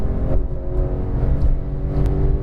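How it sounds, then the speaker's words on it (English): Porsche GT3 engine pulling hard on a racetrack at Exotic Racing California, a steady loud droning roar held at full throttle from inside the car, with no speech over it. "Squeeze that throttle pedal down."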